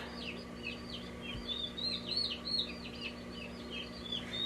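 Nine baby ducks peeping in a repeated chorus of high, thin chirps, fairly close and moderate in volume over a faint steady background hum, with no talking.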